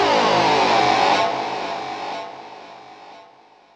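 Synth tone on a POD HD Pro with the distortion off rings out as a single thin, reedy sustained note that steps down in brightness and fades away, played alone.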